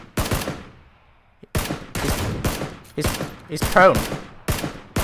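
Bursts of automatic gunfire rattle from a first-person video game shooter, several loud volleys separated by short gaps, with a player speaking briefly between the shots.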